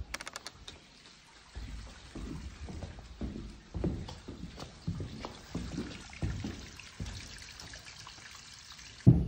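Water runs into newly installed shop plumbing pipes, a faint, uneven gurgling and trickling with irregular splashes and drips. The sound is quiet and close.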